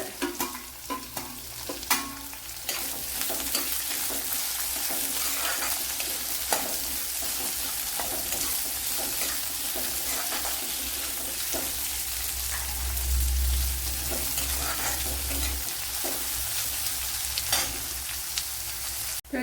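Chopped large onion frying in a pan with a steady sizzle, stirred now and then with scattered utensil scrapes and clicks, close and continuous, no voices.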